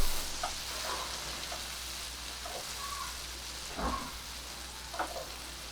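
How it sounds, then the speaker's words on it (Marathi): Onion and two capsicums sauté in a pan with a faint, steady sizzle and a few soft stirring scrapes. The sound is quiet and has no talk over it. "आता मी कांदा घालतेय दोन्ही शिमला मिरची एक दोन मिनटं"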